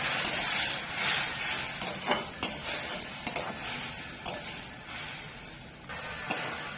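Water splashes into a mushroom and poppy seed masala frying in a pan, raising a steady hissing sizzle broken by scattered clicks and scrapes of stirring, with no talking.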